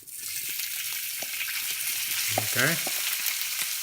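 Pork belly, already half cooked, fries in a pan with a loud, even sizzle that runs throughout, while a voice speaks briefly partway through.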